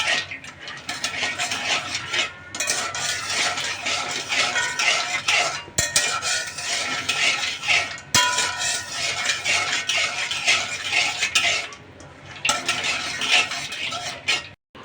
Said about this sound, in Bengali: এভাবে নাড়াতে নাড়াতে এই যে এটা মুরালির সাথে চিনিটা এভাবে